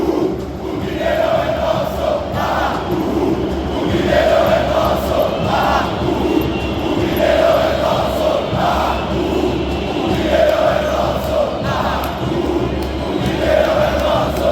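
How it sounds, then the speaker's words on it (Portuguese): Large crowd of Corinthians fans at the Mineirão stadium chanting in a rhythmic, repeating pattern, loud and continuous, with roaring cheers rising and falling in waves across the whole stretch. "Fizeram a festa aqui, inclusive dizendo que o Mineirão é nosso"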